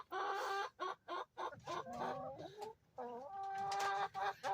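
Hens cluck in repeated bursts while laying eggs, close and loud, with short pauses between calls and a sustained cackling run near the end.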